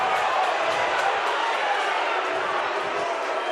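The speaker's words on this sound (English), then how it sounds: "The crowd, you'll see a lot of this" Rugby league crowd at a Bradford Bulls match jeers and shouts at the referee, a dense, steady roar of many voices filling the clip without pause.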